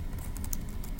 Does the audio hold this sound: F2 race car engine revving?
no